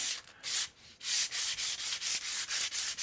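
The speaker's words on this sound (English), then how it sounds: "then I go to the finer sandpaper, sand it down" Rhythmic rasping strokes of fine sandpaper rubbing over a wooden atlatl, about a dozen quick back-and-forth passes, close and steady with no talking.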